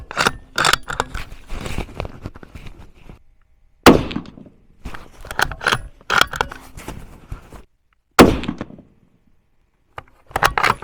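Sharp, loud rifle reports from a Howa Elevate 6.5 Creedmoor fitted with a Hawke Sidewinder scope, three spaced shots each followed by clattering handling noise, with quiet gaps between.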